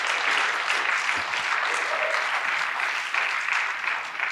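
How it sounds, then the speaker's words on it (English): A church congregation at a Sunday service applauds the musicians, steady clapping from a crowd sustained at an even level for the whole stretch with no talk over it. "can we give a round of applause to these musicians here in the cut?"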